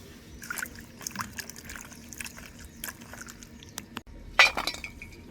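Onions and chillies being washed in water, with splashing, trickling and a few clinks of a vessel, including a sharper splash near the end; no talk over it.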